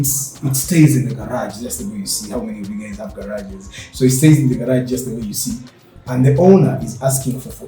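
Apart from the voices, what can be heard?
No everyday noises stand out.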